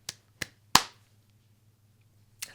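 A few sharp claps from a single person clapping, with short gaps between them and one more clap after a pause, heard over a low steady hum.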